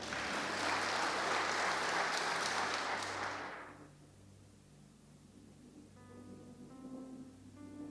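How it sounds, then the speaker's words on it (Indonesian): A church congregation at an online worship service claps in a dense burst of applause for about four seconds, then it fades away to quiet room tone while soft musical notes linger. "Yang setuju berikan tepuk tangan."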